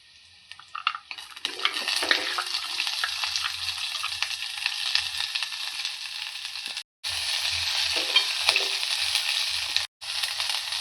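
Chopped green chillies frying in a pan, a loud continuous hissing sizzle that flares up, drops out twice briefly and returns, with occasional low stirring thumps close by.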